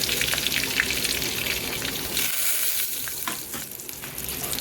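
Curry leaves and turmeric hitting hot oil in a pan for sambar, a loud dense crackling sizzle that eases slightly partway through, with scattered pops.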